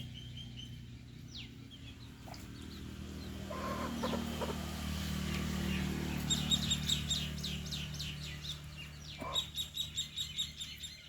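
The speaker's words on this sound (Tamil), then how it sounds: "இந்த மீன்லாம் எப்போ தூக்கிட்டு போகலான்னு இந்த கோழியும் அதோட பிள்ளைகளும் காத்து கொண்டிருக்கிறது." A hen clucks low and steady beside the spot where fish are being cleaned. Partway through, her chicks join with bursts of high, rapid peeping, close by and without talk.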